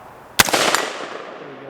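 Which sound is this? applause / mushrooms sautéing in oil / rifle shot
rifle shot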